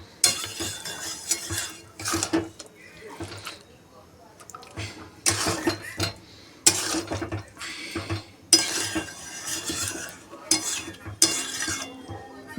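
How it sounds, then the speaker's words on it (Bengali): Spinach and meat stir-fried in a pot, heard as repeated scraping and clattering bursts of a utensil against the pot, close and fairly loud, with pauses between, while a voice talks. "একটু আগে পালং শাকটা একটু ভালো করে ভাজা হোক।"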